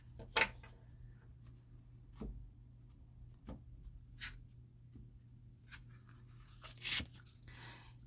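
A tarot card deck is shuffled and cut by hand, heard as soft scattered riffles and sharp card slaps spread irregularly across a quiet room with a low hum beneath.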